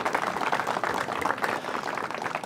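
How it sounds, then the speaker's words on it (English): Crowd applause at the Cabrillo Bridge reopening, a dense, continuous patter of many hands clapping outdoors, moderately loud and steady throughout, without any voices over it. "As you can tell by the applause"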